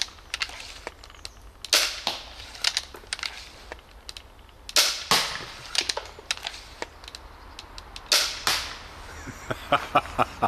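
An Instant Rufus pump action slingshot fires in a quick series of sharp snapping cracks, irregularly spaced and fairly close, with no voices between the shots.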